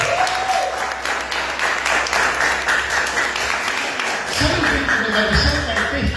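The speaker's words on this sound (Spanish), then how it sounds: "Dar un fuerte aplauso a Jesús para su gloria" Church congregation giving a loud round of applause for Jesus during a sermon, a dense sustained clatter of hands that shifts near the end as a voice and music come in.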